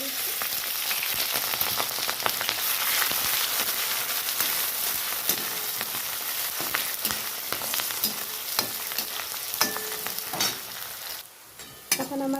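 Onion, garlic and green chilli frying in hot mustard oil in a kadai, a dense, steady sizzle and crackle with occasional stirring clatter, loud and continuous throughout.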